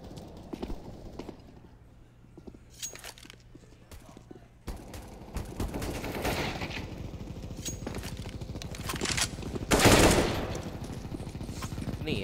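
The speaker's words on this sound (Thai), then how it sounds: "กำลังกระหน่ำกันอยู่ในเกมนะเสียงนี่ลั่นตุบตับตุบตับอันนี้คือมีเสียงเกมด้วยใช่ไหมเนี่ย" Rapid bursts of gunfire from a CS:GO pro league LAN quarter-final match, loud and dense, rising to a heavy volley near the end, with commentators talking over it.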